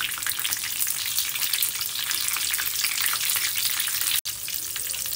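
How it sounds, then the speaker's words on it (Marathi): Bhaji fritters fry in hot oil over a full flame, making a loud, dense, continuous sizzle with bubbling crackle that breaks off for an instant near the end. "याला फुल फ्लेमवरतीच फ्राय करायचं आहे"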